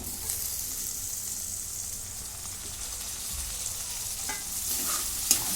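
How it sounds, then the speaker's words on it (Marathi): Onion and tomato frying in a pan, a continuous close sizzle with occasional stirring scrapes and a couple of sharp utensil taps near the end, no speech. "टॅमॅटो पण चांगला भाजून घेतो"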